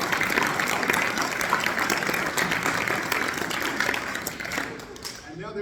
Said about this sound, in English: Let's have a round of applause for all three of them.